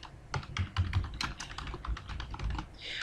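Rapid clicking keystrokes from a computer keyboard as a search is typed, a dense irregular run of close, crisp taps with no talking.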